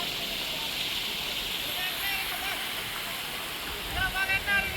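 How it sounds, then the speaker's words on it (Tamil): Steady rushing water pours and splashes continuously, fairly close, with some brief louder gurgles near the end. "தண்ணி இப்பவும் வடிஞ்சோன்றது பார்த்தீங்களா"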